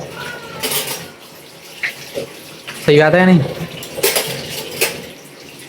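Dishes and steel utensils being washed under a running tap in a home kitchen, with clinking and clattering pots against steady water flow, loud and close, while a person speaks briefly.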